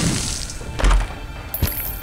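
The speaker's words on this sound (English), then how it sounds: "We'll have to drop a bomb" A bomb dropped and going off in the roguelike game The Binding of Isaac: Rebirth, a single heavy, dull thump that is loud and close, followed by a fainter second knock.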